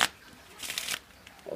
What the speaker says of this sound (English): I'm going to give the cards a little bit of a shuffle first.